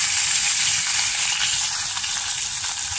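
Curry leaves sizzle in hot coconut oil for a lime pickle, a steady, loud, bright frying hiss that holds evenly throughout with no voices.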